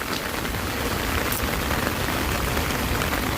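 Steady, dense rain falls on hard surfaces around a Korean canteen setting, a continuous loud hiss of drops with no pauses and no voices.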